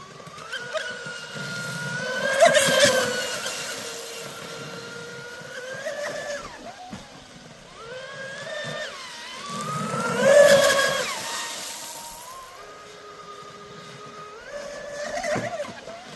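An RC speedboat, a Dominator, screams at full throttle across a pond, its high whine swelling as it passes close, fading, then surging again in repeated runs with no talking.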